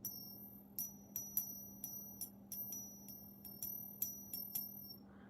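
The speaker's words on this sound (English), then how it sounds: "This is the sound of a silver half dollar." A 40% silver half dollar coin struck about a dozen times in irregular succession, each tap giving a bright, clear ring that decays quickly over a steady low background hum.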